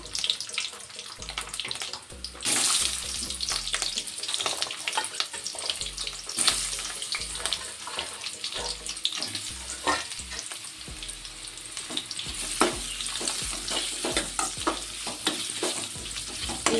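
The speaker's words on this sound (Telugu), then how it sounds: "ఈ ఆయిల్లో ఫ్రై చేసుకోవాలి కలర్ మారేలాగా" Onions fry in hot oil in a pan for a bitter gourd onion fry, a loud, steady sizzle broken by repeated stirring clatters and scrapes across the whole stretch, no talking.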